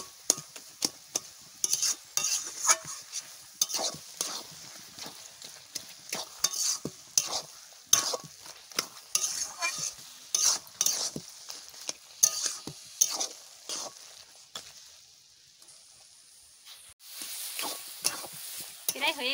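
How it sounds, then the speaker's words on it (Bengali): Taro leaves (kochu shak) sizzle in a frying pan while a spatula scrapes and stirs in quick, irregular strokes, steady and close, with no talking. "প্রায় হয়ে গেছে কচু শাক ভাজা।"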